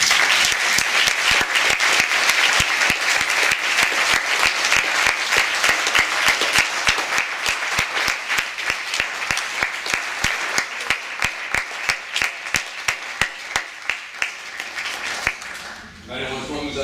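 An audience at an eloquence contest applauds in dense, sustained clapping that thins into scattered individual claps before fading out near the end.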